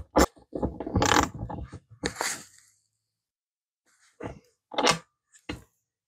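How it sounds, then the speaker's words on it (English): Bolts on a garden cart being tightened with a ratchet: quick runs of clicking pawl strokes in bursts, then a pause and a few separate clicks, close and fairly quiet. "Okay, back to the first side again, and we'll tighten that down."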